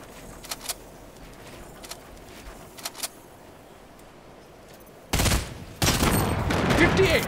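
Gunfire in the video game Fortnite: a few quiet scattered shots early on, then two loud bursts of rapid fire near the end, with possible faint talking underneath.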